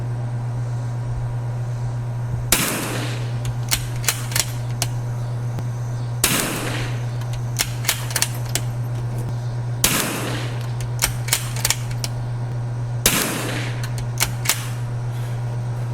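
Four sharp rifle shots with Lapua ammunition ring out at an outdoor shooting range, spaced a few seconds apart, each loud crack trailing into a brief echoing decay over a steady low hum.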